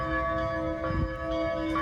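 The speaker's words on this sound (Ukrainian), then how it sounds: "Дзвонять дзвони, сонечко виблискує між деревами." Church bells ring steadily on the outskirts of Kyiv in autumn, a sustained layered tolling with long humming overtones, loud and continuous without voices.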